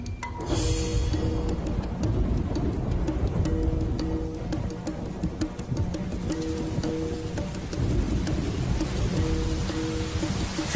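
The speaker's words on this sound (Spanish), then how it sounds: "Y se suceden los intensos aguaceros." A heavy tropical downpour during the stormy rainy season hisses steadily and densely, a loud continuous wash of rain with low rumbling beneath, no voices present.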